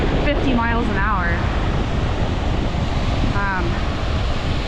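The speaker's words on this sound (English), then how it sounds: "We're under a wind advisory right now for gusts up to 50 miles an hour." Strong gusting wind buffets the microphone on a Lake Michigan beach during a wind advisory, with steady roaring surf beneath. A voice speaks briefly in the middle and near the end.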